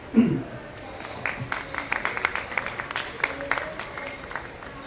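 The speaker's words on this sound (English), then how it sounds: "Please welcome him with a big round of applause." A seated audience at a COP30 water-resources session gives a big round of applause: steady, moderate clapping that swells at the start and holds through the clip, with no speech over it.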